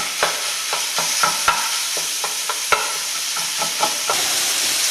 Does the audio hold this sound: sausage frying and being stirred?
yes